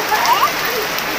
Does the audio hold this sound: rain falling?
yes